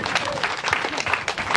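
Audience clapping at a retirement and house-warming party for a teacher, a dense, steady burst of applause filling the short moment, with some voices mixed in.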